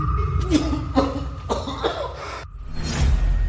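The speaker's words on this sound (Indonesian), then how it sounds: "hanya beberapa patah kata, dan kau batuk seperti ini" A run of about five harsh, close coughs comes in quick, uneven bursts, loud and raspy, with a short pause before a final rough cough.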